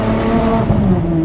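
Naturally aspirated V12 of a Ferrari 599 GTO, a loud, steady, close engine drone with strong harmonic tones, heard alone without talk.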